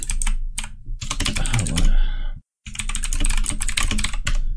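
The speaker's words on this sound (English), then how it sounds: "I just did it because my keyboard's so fucking loud." A loud computer keyboard clatters with rapid, dense keystrokes in close bursts, broken by a brief silent gap before the typing resumes just as fast.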